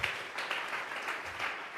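A church congregation applauds during a Spanish-language Bible study service, producing a steady, fairly soft wash of many hands clapping at a distance, with faint voices underneath.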